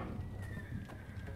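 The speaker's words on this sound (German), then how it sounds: "Der Kampflärm scheint die Pferde heute besonders nervös zu machen." Nervous horses in the adventure game Geheimakte 3: faint hoof clops and a short whinny against a murmur of background noise.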